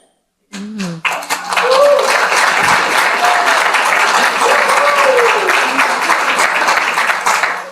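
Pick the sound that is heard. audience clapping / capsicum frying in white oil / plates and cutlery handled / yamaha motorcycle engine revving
audience clapping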